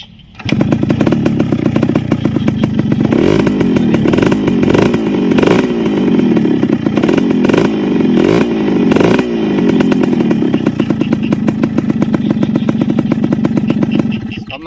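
A Yamaha RXK motorcycle engine runs close and loud, a raspy, rapid two-stroke-like buzz that rises and falls in a few revving surges before settling into a steady idle.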